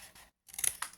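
Scissors snipping paper while assembling a scrapbooking gift box, a few crisp close cuts after a brief silence, the last snips loudest.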